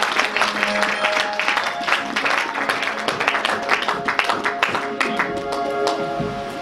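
Church congregation applauding in a sustained, dense burst of clapping that fills the room, with some voices and tonal music faintly underneath.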